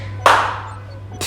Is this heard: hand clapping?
yes